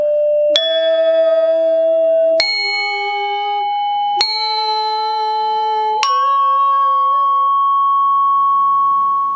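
Four separate strikes on the bars of a Balinese gong kebyar metallophone, each a bright, ringing metallic tone that sustains and shimmers until the next blow, with the last note fading out alone.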